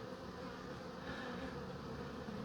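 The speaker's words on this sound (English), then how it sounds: "So we got a bee here." A honeybee buzzes steadily and close during an inspection of a hive, a continuous insect drone sustained without a break over a dense background hum.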